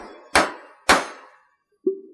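A hammer strikes a packing tool with a spud on top, loosening pump packing: two sharp loud metallic whacks in quick succession, then a lighter ringing tap after a pause.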